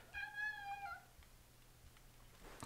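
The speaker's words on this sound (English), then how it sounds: "He started meowing at the back door" A cat gives one clear, drawn-out meow at a back door, fairly close and alone against a quiet room with a low steady hum.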